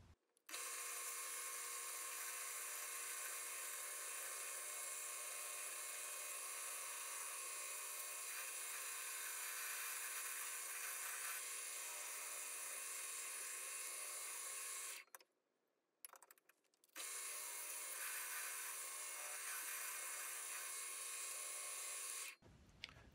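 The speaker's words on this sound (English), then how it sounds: "Spent a bit of time on the wire brush or wire wheel, taking the paint off one of these handles" A spinning wire wheel strips paint from a metal plane handle, giving a continuous high, harsh whine that runs steadily for a long stretch, briefly cuts out twice, then resumes before stopping, with no talking.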